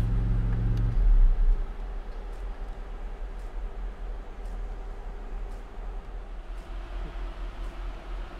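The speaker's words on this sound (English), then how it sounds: "So let's turn the car off." A Maserati supercar's idling engine rumbles loudly, then cuts off after about a second and a half, leaving a quiet, steady background hum inside the car.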